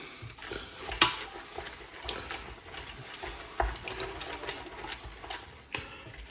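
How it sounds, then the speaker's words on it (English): Stirring chicken sausage and shrimp gumbo in a pot, with uneven spoon scrapes and a few sharp knocks against the pot over a soft background hiss, no talking. "And just keep stirring."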